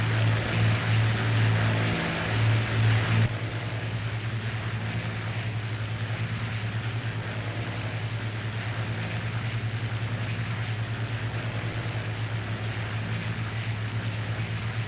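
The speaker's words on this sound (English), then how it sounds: "The Stukas are diving on Thorney Island." Aircraft engines from Stuka dive bombers diving on Thorney Island during the Battle of Britain, a loud steady propeller drone with a low throbbing hum that holds throughout, with no talking.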